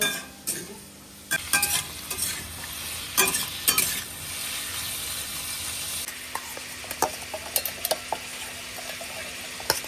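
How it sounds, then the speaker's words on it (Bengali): Spices and tomato sizzle and fry in a pan for a paste, with repeated sharp clinks and scrapes of a utensil stirring against the metal, close and busy over a steady frying hiss, no voices. "এই মশলাগুলোকে ভালো করে ভেজে নিয়ে এটার একটা সুন্দর পেস্ট বানাবো"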